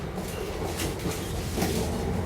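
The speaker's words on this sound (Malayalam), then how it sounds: "ട്രെയിൻ വീണ്ടും നീങ്ങിത്തുടങ്ങി." A train moving through the suburbs of Amsterdam, heard from on board as a close, continuous rumble with rhythmic clacks and rattling of the carriage, without any voices.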